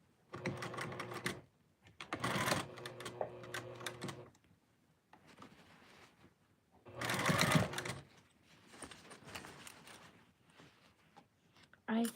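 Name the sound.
sewing machine stitching a sleeve seam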